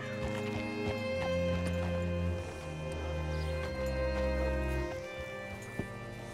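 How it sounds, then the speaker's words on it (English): Horse hooves clip-clop under a steady music bed in Red Dead Redemption 2, with a horse whinnying briefly, loud and close throughout. "Hitch your horse up here."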